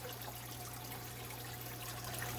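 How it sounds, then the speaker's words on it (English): Cold tap water running steadily into a bucket for an aquarium water change, a soft constant rushing splash with a faint steady hum underneath, no voices. "So as I've been running the water, it's been getting colder and colder."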